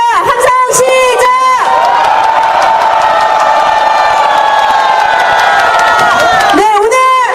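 A large crowd at a street protest rally cheers and shouts in a loud sustained roar lasting several seconds, with a few amplified voice bursts at the start and end.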